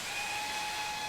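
Steam hisses from the open cylinder cocks of a steam locomotive in the Manx Virtual Railway game, a steady faint whistling hiss with a thin tonal edge, continuous and alone.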